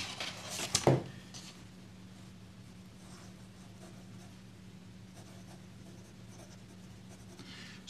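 A fountain pen with Herbin Ambre de Birmanie ink scratching across textured paper, a faint steady scratching close up over a low background hum, following a brief louder scrape near the start.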